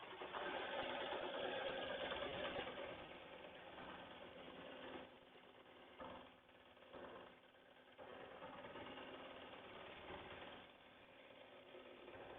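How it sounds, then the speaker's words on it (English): An embroidery machine runs steady edge stitching around an applique held on plastic backing, a continuous close whir with brief dips midway and no talk. "Now it's going to do the edge stitching so that this comes off of this plastic easy."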